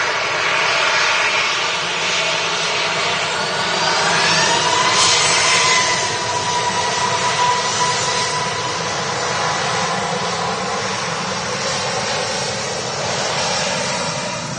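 A Ryanair Boeing 737 NG fitted with retrofit winglets arrives overhead, its jet engines giving a loud, continuous roar with a rising whine that swells midway and then holds steady. No one speaks.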